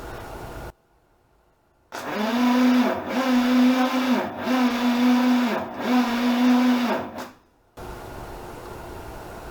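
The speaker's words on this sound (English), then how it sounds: "I'm going to go ahead and crank it over a few times" A new engine in a 1941 Dodge army truck cranks over on the starter without firing, giving a steady rhythmic whirring chug with four or five regular compression pulses, loud and close for about six seconds, then stops.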